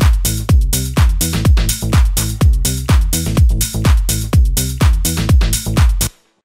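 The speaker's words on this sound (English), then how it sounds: "Solid driving bass line." Piano house drums pound in a steady four-on-the-floor pattern, locked with a solid, driving synth bass line that pumps under sidechain compression; loud, dense and without voices, cutting off abruptly at the end.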